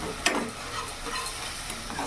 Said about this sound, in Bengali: সামান্য অল্প একটু জল অ্যাড করলাম যাতে মশলাটা লেগে না যায়। ভালো করে মিশিয়ে নেব।